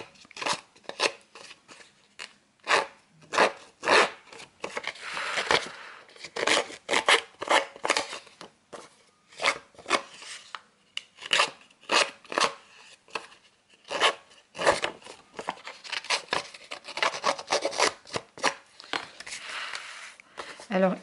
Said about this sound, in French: Donc, on va user ce papier.